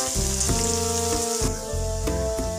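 Chopped onions frying in a pan for a cabbage sabzi, crackling with steady bright sizzle while a spoon stirs them, with occasional scraping knocks against the pan.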